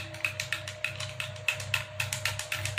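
Instant BRU coffee being stirred in a cup after hot milk is poured in, a spoon tapping and clinking against the sides in a steady, regular rhythm, close and fairly clear over a low background hum.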